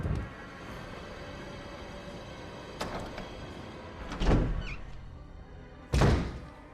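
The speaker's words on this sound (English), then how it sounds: "So right now we're gonna go through this door." Door opening in the Resident Evil Remastered video game, with a low ambient drone and three heavy thumping clunks of the door mechanism, the last two loudest, near and without talk.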